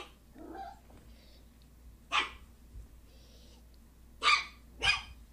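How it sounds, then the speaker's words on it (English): A small dog gives a few sharp, close yips and barks indoors, scattered across several seconds with quiet gaps between them. "That's a cute dog."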